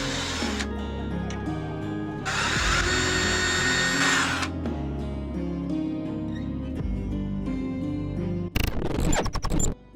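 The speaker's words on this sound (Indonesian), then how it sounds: "Buat 2 buah lubang juga pada face shield-nya." Holes being drilled in a plastic face shield for a homemade Cyberpunk mask, with a small power drill whining in several bursts of varying length, close and moderately loud.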